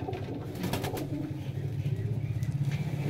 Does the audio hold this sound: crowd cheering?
no